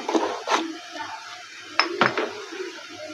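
A utensil stirs leafy greens with turmeric in a pot, giving a few scattered clanks and scrapes against the metal, moderately close and with no talking.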